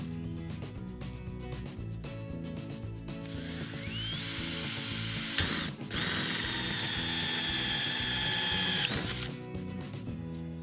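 Power drill spinning a 1 inch hole saw through repurposed coffee cans for a hydroponics build, a steady motor whine that rises in pitch as the bit runs, with a short break before a sustained cut; faint and continuous.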